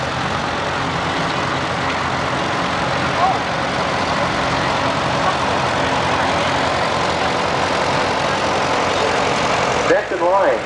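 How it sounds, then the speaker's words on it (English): A 1942 Ford 9N tractor idling in an antique farm fair parade, a steady low engine rumble running throughout, with crowd noise and a public address voice blended over it. "We got a 1942 9N Ford tractor."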